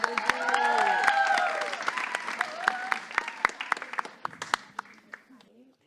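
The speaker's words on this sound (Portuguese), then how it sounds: "palmas pra Ingrid" An audience at a poetry event claps for a young poet. Moderate applause swells, then thins into scattered individual claps, with a voice speaking over the start and some murmuring.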